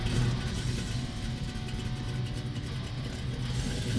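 A 1969 Camaro restomod with headers idles and rumbles steadily, a low continuous engine drone heard from close by with no talk.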